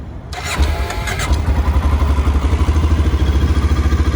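A 2001 Honda NX 650 Dominator motorcycle is started on the button with the choke on, a brief starter whir, then the single-cylinder engine catches and settles into a loud, even, thumping idle close by.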